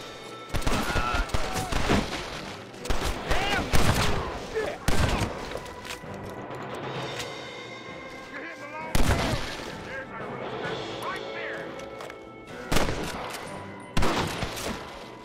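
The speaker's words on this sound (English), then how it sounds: "this is where the shotgun's gonna come in handy" Shotgun gunfire in the Red Dead Redemption video game: loud, separate blasts in irregular bursts over about fifteen seconds, with quieter gaps between them.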